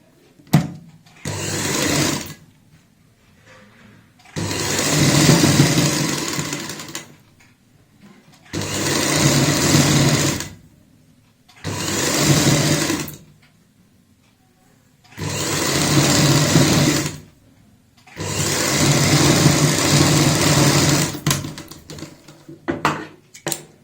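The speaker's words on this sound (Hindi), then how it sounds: "अब हम इस तरीके से पलटेंगे और ऊपर से यहाँ पे सिलाई लगाएंगे।" Sewing machine stitching lace onto a palazzo trouser hem, running in five loud steady bursts of a few seconds each, separated by short quiet pauses.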